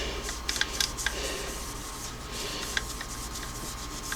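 Soft cloth buffing a light coat of wax off the finish of a Singer Model 404 sewing machine, close continuous rubbing strokes with a few small ticks and clicks, no talk.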